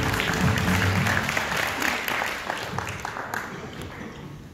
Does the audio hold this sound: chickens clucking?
no